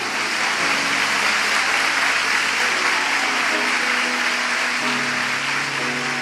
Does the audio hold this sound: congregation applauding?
yes